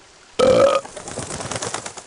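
A loud, rough belch sound effect for a fictional extra-carbonated beer called Belch, a single burst lasting under half a second, followed by a quieter, busy stretch of lower-level sound.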